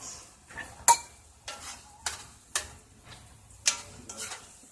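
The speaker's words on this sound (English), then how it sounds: "so we got our ground beef going, and it really doesn't take a long time to cook ground beef" Ground beef cooking in a pan for egg rolls, heard as a run of sharp utensil clinks and scrapes against the pan at irregular intervals over a quiet, faint sizzle, with no voices.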